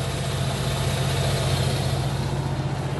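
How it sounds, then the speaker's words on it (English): Steady engine-driven generator running close by, a continuous low droning hum with a rough mechanical rumble and no break in level throughout. "That noise isn't the engine, by the way, it's the generator."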